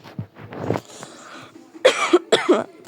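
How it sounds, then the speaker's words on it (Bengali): Several close, harsh coughs from a person with a cold, a few weaker ones early, then two loud bursts near the end, with no talking. "আমার ঠান্ডা লেগে গেছে, এই জন্য একটু কাশি হচ্ছে"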